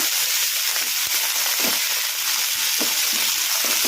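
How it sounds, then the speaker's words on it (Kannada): Mint leaves frying in oil in a pan give a steady, dense sizzle throughout, with faint crackles and stirring taps underneath. No one speaks. "ಈಗ ಪುದೀನ ಕೂಡ ಒಂದು ಸ್ವಲ್ಪ ಫ್ರೈ ಆಗಿದೆ"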